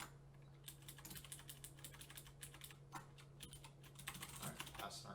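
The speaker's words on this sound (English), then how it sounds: "A lot of typing, but it's all right." Rapid, irregular clicking of a computer keyboard as someone types code, a quiet, continuous patter of keystrokes with a faint hum behind it.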